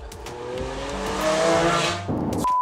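A Lamborghini Aventador engine revving hard in Corsa mode, a loud close roar climbing in pitch through gear changes with a brief drop before surging again, heard alone.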